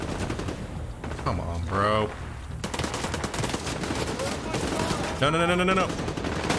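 Gunfire and bursts in The Division 2, with a grenade or flashbang going off nearby, sounding loud and continuous through the shooter, with someone talking excitedly over it.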